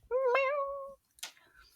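A cat gives one clear, loud meow lasting nearly a second, followed by a brief quieter vocal sound and a short rustle.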